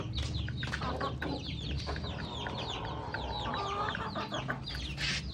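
Rhode Island Red chickens cluck and chatter continuously at close range during feeding, with overlapping calls and rustling from the flock filling the whole stretch.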